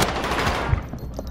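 Short, close burst of automatic gunfire in Call of Duty Warzone, several quick loud shots in a second-long rattle that trails off.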